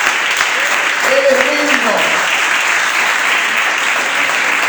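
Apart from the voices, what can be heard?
applause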